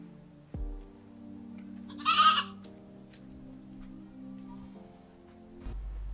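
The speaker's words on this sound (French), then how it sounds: "Viens, à qui appartient cette chèvre?" A goat gives one short bleat partway through, heard over a quiet background of steady music tones in a film scene, with no speech.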